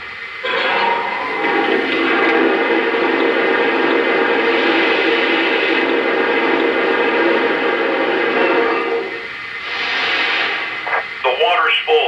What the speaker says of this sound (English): Here's the sound of water being added to the tender.